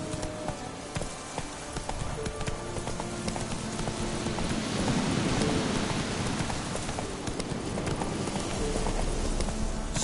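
Horse hooves clip-clop steadily as the horse is ridden in a PS4 video game, mixed with a dense rain-like hiss that swells toward the middle. The hoofbeats stay constant and fairly prominent throughout, with no voices.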